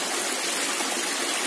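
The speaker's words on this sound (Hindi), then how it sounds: "स्वच्छ जल झरना से आ रही है।" A waterfall at Rishikesh makes a constant, loud, hissing rush of falling water, steady throughout with no voices.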